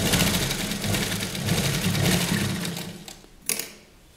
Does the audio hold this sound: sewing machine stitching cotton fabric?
yes